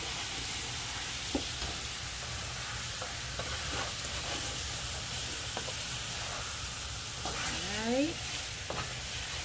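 Oxtail browned and stirred in a pot, a steady loud sizzle under occasional scraping stir strokes and a brief squeak of the spoon, close, with a voice speaking briefly.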